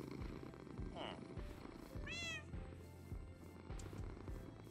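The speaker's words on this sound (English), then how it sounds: "Am I hearing purring?" A Minecraft cat purring in low, rhythmic pulses, with a short meow and a rising, chirpy cat call breaking in over the quiet, close rumble.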